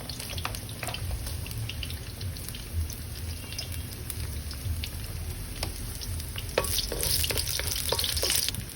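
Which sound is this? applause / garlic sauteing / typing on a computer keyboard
garlic sauteing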